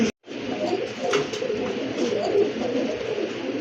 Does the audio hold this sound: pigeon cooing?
yes